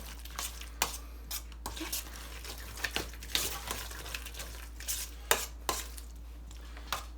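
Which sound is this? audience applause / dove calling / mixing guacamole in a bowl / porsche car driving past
mixing guacamole in a bowl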